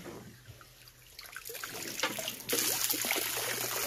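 Water trickles and dribbles out of a found safe, faint and uneven at first, then swelling into a louder, steadier splashing flow near the end.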